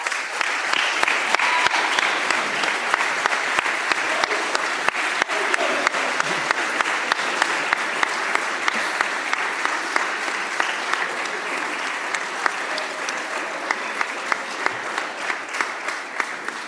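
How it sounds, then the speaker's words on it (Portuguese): A church congregation applauds veteran legendários with loud, steady clapping from a large crowd, continuous and dense throughout, with faint voices mixed in. "Eu queria que vocês aplaudissem a vida deles."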